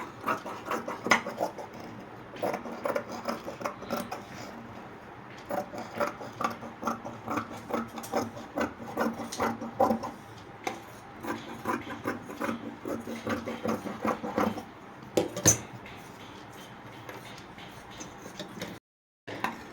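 Scissors cutting blouse fabric along marked lines, a steady run of soft snipping, rasping and rubbing on a table, close and fairly quiet, with no talking.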